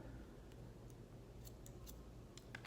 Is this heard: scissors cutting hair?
yes